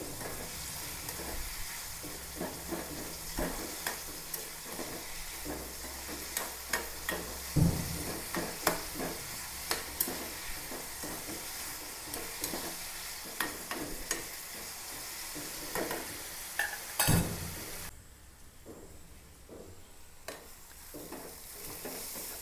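A quarter kilo of onions sizzles in a small pan for an onion theeyal, while a spoon scrapes and stirs at irregular intervals. Two louder clacks stand out before the frying quietens near the end.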